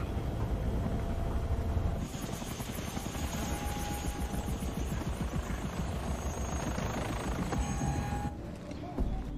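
Helicopter in flight, its loud, steady rotor chop and engine whine heard from inside the cabin, continuous throughout.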